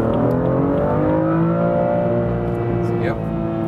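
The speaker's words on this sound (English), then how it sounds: "let's go one more time to the rev limiter" A 370 hp BMW M2 Coupé engine held high against the rev limiter, a loud steady droning roar with a slight falling sweep near the end, heard from inside the car.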